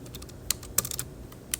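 Typing on a computer keyboard, a few sharp, close key clicks scattered irregularly over quiet room tone, with a small cluster of taps in the middle.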